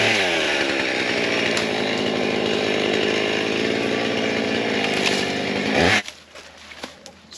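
A chainsaw runs continuously at a steady, loud pitch for about six seconds, then cuts off abruptly and leaves quieter outdoor background.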